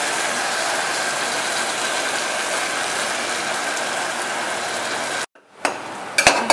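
Ground ginger, garlic and green chili paste fries in a pan for coconut milk rice, a loud steady sizzle that cuts off abruptly, followed by a few sharp metallic clanks.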